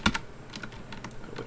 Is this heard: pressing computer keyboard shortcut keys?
yes